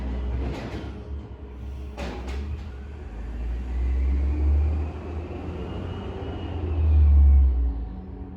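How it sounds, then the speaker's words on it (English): A truck passing along the road outside, a steady low rumble that swells and fades, rising to its loudest near the end. "I'm gonna let the truck pass."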